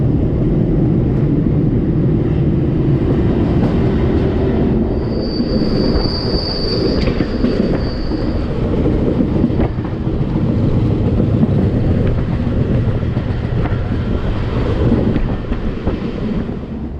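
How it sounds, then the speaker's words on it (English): A Comboios de Portugal train runs along the Douro Valley railway past vineyards, with a steady loud rumble of wheels on track, wind buffeting, and a sustained high metal wheel squeal rising midway through. "Our train now heads towards the Douro Valley"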